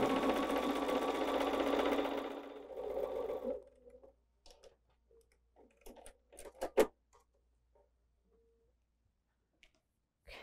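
A sewing machine stitches a quarter-inch seam on a zigzag stars quilt block, a steady close whirring hum for a few seconds that stops, followed by scattered light clicks and taps of fabric handling.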